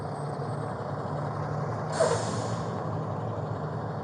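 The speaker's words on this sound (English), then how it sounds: "That truck's going to be really loud." A passing truck rumbles along outdoors, a steady low drone with a brief loud hiss or air-brake burst midway, heard without speech over it.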